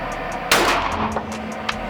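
A single sharp gunshot at an indoor shooting range, fired at a 25-yard target, cracks loudly and close, then rings off in a long reverberant decay with faint background noise around it.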